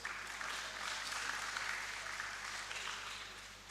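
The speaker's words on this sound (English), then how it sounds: "can we give them another round of applause?" An audience at a film and TV investment summit gives a round of applause, a steady, fairly quiet wash of clapping that tapers slightly toward the end.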